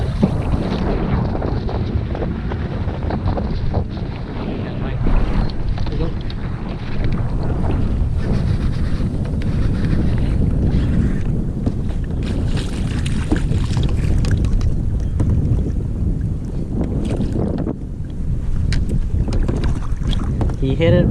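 Strong wind buffets a Sun Dolphin kayak on open water while fishing for striper at O'Neill Forebay, a constant loud roar of gusts across the microphone with faint water movement beneath and no clear talk.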